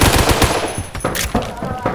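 Rapid gunfire in the Roblox game Phantom Forces cracks in quick close bursts, sharp repeated shots with brief gaps between them, loud and alone.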